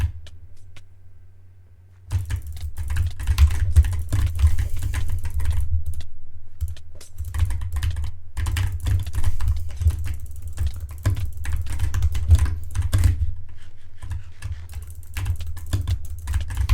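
Rapid mouse clicking during a Minecraft PvP fight patters in fast, dense bursts, close and steady, pausing briefly before resuming in long runs with no voices.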